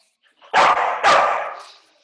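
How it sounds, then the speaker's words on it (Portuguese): A nervous dog gives two loud, close barks in quick succession, the second trailing off, with near silence around them. "cachorro tá nervoso aí."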